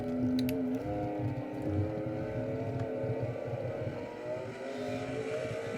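A race car's engine drones continuously as it circles a fast track with few sharp turns in the NR2003 racing game, a steady, sustained hum with slight pitch shifts as the car holds speed.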